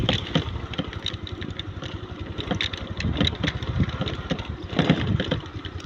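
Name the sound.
motorcycle riding over bumpy road with pipes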